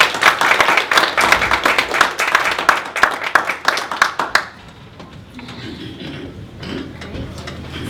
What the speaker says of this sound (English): I think that we should give our trustees, even though they're in abstention, at this time, a round of applause.